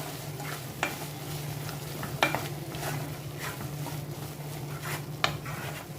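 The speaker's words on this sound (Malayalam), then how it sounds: "പഞ്ചസാര ചേർത്തൊന്ന് മിക്സ് ചെയ്ത് കൊടുക്കാം" Sugar being stirred into a Kerala egg roast masala in a pan, a steady low sizzle with a few soft spoon scrapes against the pan, no voices.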